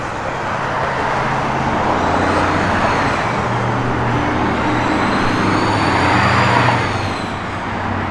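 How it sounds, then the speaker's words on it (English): A 1967 Chevrolet Malibu on BF Goodrich Radial T/A tires rolling down the road, a steady, loud broadband rush of engine and road noise that holds for the whole stretch, swelling slightly near the end, with no voices. "Good car, sits good, rolls right down the road"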